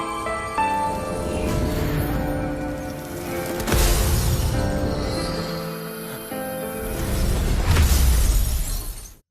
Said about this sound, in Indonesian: Lo Feng segera menyelamatkan Susin dari pecahan kaca